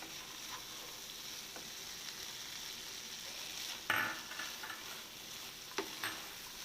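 Fried coconut pieces drop into a pan of sizzling clam meat roast, giving a steady low frying hiss with a stirring scrape and brief louder rustles near the middle and end.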